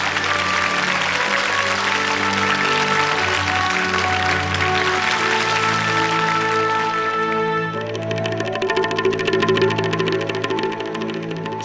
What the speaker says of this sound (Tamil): எல்லாரும் இவங்களுக்காக கைத்தட்டுங்க.